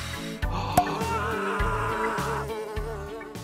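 A steady insect-like buzz, as of a bee, droning over bright music with thumping beats, fairly loud and continuous throughout.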